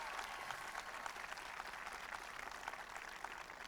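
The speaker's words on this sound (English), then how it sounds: "Give them all a round of applause." A crowd claps steadily in sustained applause, a dense even wash of handclaps at moderate volume.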